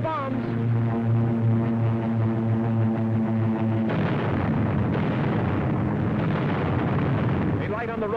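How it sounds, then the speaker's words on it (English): A droning aircraft engine hum gives way to rumbling, booming blasts of bombs dropped from a plane in 1943 North Africa, loud and continuous, with narration over the top. "Watch the plane. There go the bombs."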